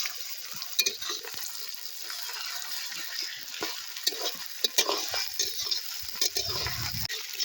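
Garlic and ginger paste frying in a pan, a continuous close sizzle broken by frequent light scrapes and taps of stirring, with no talking.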